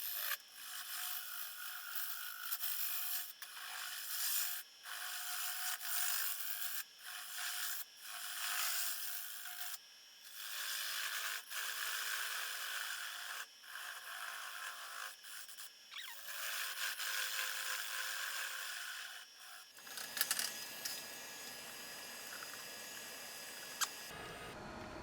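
A wood lathe turns a Bradford pear bowl while a tool cuts down the tenon, giving a steady, close scraping and rubbing with short breaks, then stopping near the end.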